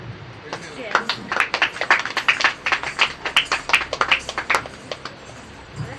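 An audience applauds performers at a stage event: a steady patter of many hands clapping, moderately close, with a voice speaking faintly underneath.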